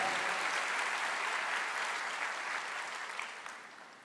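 A congregation claps together during a church sermon, a dense, steady burst of applause that holds strong and then tapers off toward the end.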